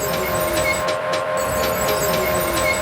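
A tram rolls past on the streets of Milan, a loud continuous rumble of wheels and motor with rhythmic rail clicks throughout, close and steady with no talking.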